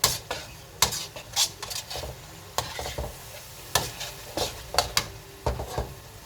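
A spoon scrapes and stirs heavy curry paste around a hot wok for homemade chicken curry, giving repeated sharp metallic scrapes and clacks over a steady low sizzle, close and fairly loud, with no talking.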